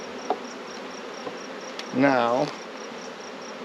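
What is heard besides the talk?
honey bees from a swarm trap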